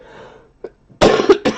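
A person coughs twice in quick succession, close and loud, after a brief throat noise, with quiet room tone before.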